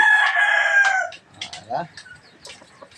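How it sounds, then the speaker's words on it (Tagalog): Native labuyo junglefowl roosters crowing on a farm, a loud near crow followed by a few fainter clucks and a more distant crow, with no speech. "Mga ninilaok."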